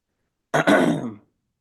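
A single throat clearing burst, short and close, with a rough guttural rasp, then silence.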